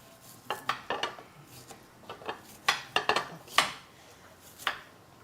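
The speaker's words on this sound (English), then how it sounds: "So is there a reason why you like this size when you're cutting the onions?" A knife chops onions on a cutting board in a home kitchen. Sharp, separate taps come in uneven bursts, fairly close and clear, with a little clatter of utensils between cuts and no talking.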